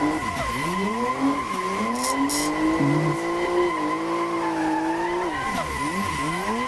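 Drift car tires squealing continuously in the Assetto Corsa racing game, a loud sustained screech with the engine droning underneath and pitch sweeping as the car slides through corners.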